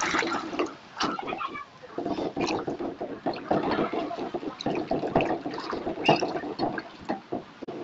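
Raw cashews are washed by hand in water in a home kitchen, with irregular sloshing, splashing and swishing strokes close by, continuing unevenly throughout.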